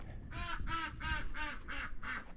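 A duck quacks six times in a steady, evenly spaced run of clear, fairly close calls on a homestead.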